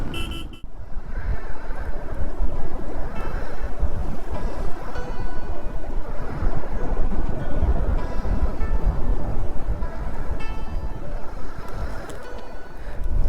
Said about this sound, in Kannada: ನೋಡಿ ಎಷ್ಟು ಫಾಸ್ಟಾಗಿ ಹೋಗ್ತಿದೆ ನೀರು.